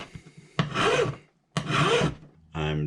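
A hand file shaping the wooden body of a 1967 Teisco Audition Zenon guitar, three long rasping strokes with short pauses between, close and distinct.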